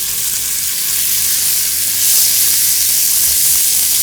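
Stewed leeks with smoked paprika sizzling loudly in a hot pan, a dense continuous hiss close up that swells slightly partway through, with no voices over it.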